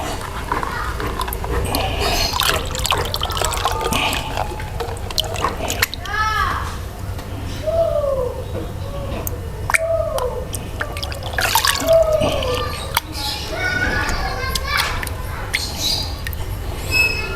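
Roughly 10 liters of water pour and splash into a container while making a natural plantaricin preservative, gurgling and dripping near the microphone in bursts.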